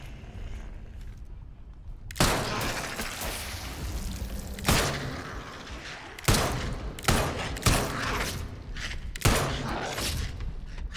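Gunfire in the Atomfall video game, a run of loud, sharp shots at irregular intervals, some in quick clusters, each trailing off into a rumbling echo.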